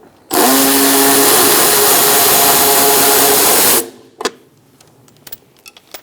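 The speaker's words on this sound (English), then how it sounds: "Using an 8mm, we're going to take out this last bolt" A power tool fitted with an 8mm socket backs a bolt out of the front bumper impact absorber on a 2012-2018 Ford Focus. The loud, steady whir runs for about three and a half seconds, then gives way to a few light metallic clinks.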